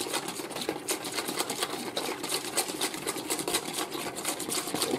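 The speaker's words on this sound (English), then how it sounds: "So we're gonna whisk these up first," Eggs are whisked in a bowl for homemade eggnog, a rapid, steady, close clatter of a whisk against the bowl that continues evenly throughout.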